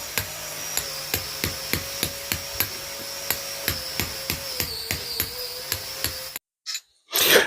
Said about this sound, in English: is the raking chisel, and as you can see, it's taking off tiny little bits